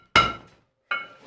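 A big hammer strikes the brake disc on a 1990 two-door Range Rover hub, two hard metallic blows about three quarters of a second apart, each ringing briefly and loud in a quiet workshop.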